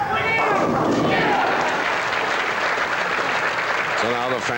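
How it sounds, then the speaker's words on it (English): Bowling fans at the 1982 True Value Open cheer and applaud Art Trask, a loud sustained roar of clapping and shouts with voices calling out over it. "the fans are beginning to pick up on the name of Art Trask and are cheering him on"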